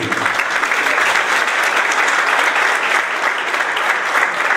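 An audience at a mercantile oral trial training seminar claps steadily and loudly for several seconds, a dense, even burst of applause from a roomful of people.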